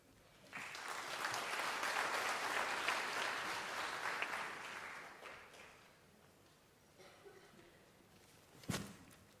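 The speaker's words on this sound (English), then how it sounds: "I think it is proper that we give Professor Ngulube another round of applause" Broad applause fills a graduation ceremony hall, swelling quickly and holding steady for several seconds before fading out, with a lone sharper clap or thump near the end.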